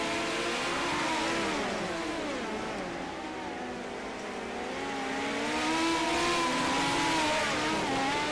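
Race car engines in a sim racing game of midget cars: several engines rev and wail together at steady volume, their pitch rising and falling in overlapping sweeps as the cars circle.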